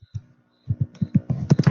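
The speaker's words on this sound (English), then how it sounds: "sorry, typing the wrong thing." Quick keystrokes tap on a nearby computer keyboard, two isolated presses followed by a denser burst of typing that grows louder toward the end, with no talking.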